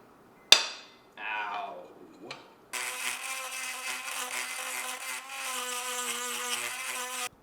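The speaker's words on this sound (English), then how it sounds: "I have a Dremel micro and I have carbide burrs" Dremel micro rotary tool with a carbide burr grinding Damascus steel for a mosaic Bowie knife, a steady high-pitched whining buzz running for several seconds after a few short knocks and a brief rising whir.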